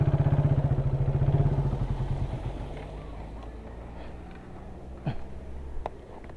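A Raider 150 carburetor motorcycle engine runs close by with a loud, rapid throbbing that gradually fades and settles into a softer idle, with light clatter and a few sharp knocks near the end.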